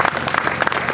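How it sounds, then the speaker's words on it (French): Brief burst of applause from a church congregation at a pastor's jubilee celebration, dense clapping heard near and alone. "On peut applaudir"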